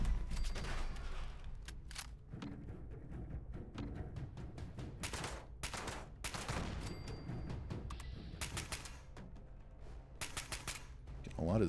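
Gunfire in Fallout 76 as turrets and an Assaultron robot are shot down, with repeated bursts of shots spread through the clip over steady game noise.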